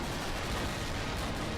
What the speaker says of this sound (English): Just running around spamming that stupid cannon